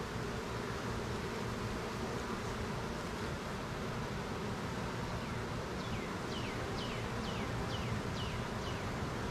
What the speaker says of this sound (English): There's a problem with that bee.